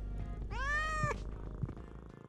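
In the video game Thief Simulator 2, a cat gives one clear, close meow that rises and then falls, over a low steady hum. Soft thumps follow.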